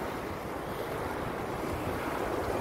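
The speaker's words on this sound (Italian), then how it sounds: "E il mare c'ha il suo fascino, sia estate che inverno" Sea waves wash steadily in a continuous broadband rush, mixed with wind buffeting the microphone, fairly close and unbroken, with no voices.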